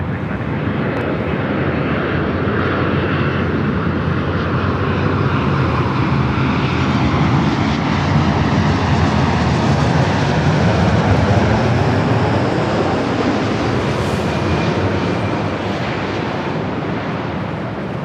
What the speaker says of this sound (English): We're going to start with the United Dreamliner. Next arrival here on the north side on 24 right.